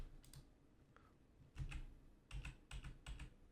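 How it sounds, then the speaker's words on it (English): Keys on a computer keyboard are pressed in a quiet room, a few soft isolated clicks followed by a short cluster of sharper, closer keystrokes, with no voices. "You can press Escape on the keyboard."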